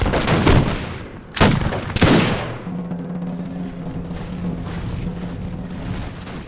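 Musket volleys in an Imperial Splendour battle set in the French and Indian War: several loud, close cracks up front, then a lower rumbling din of distant firing and battle noise.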